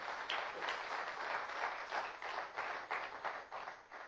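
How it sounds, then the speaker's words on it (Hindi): A crowd claps at a network marketing seminar, a rippling, fairly quiet round of applause that pulses unevenly from start to finish without any talking. "एक बार जोरदार तालियां हो जाए सर इस इंडस्ट्री के लिए।"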